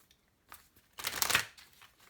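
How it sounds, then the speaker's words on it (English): A deck of oracle cards gets a single quick shuffle, a brief soft riffling burst in a quiet room. "One more shuffle."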